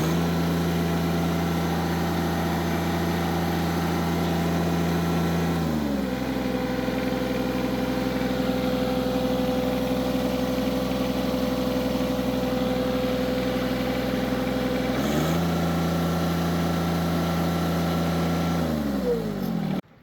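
A John Deere 1025R compact tractor engine idles steadily and close, its tone dipping briefly around six seconds and again near fifteen seconds and nineteen seconds as the throttle settles, with no talking.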